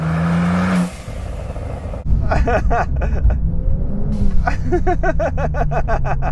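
A Brabus car tuned to 900 hp launches hard from a standstill, with loud engine roar and rising, stepped revs through quick gear changes, close by.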